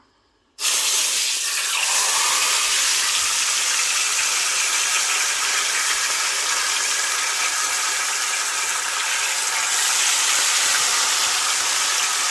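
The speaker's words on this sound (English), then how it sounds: "So you leave those to fry, and then you fry the last one." Fish fries in very hot oil in a non-stick pot, a loud, steady sizzling hiss that starts abruptly after a moment of quiet and holds constant throughout.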